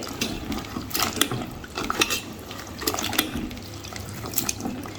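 Hands swish and squeeze tamarind in a bowl of water, washing it, giving splashy, uneven sloshes and drips that come in irregular bursts.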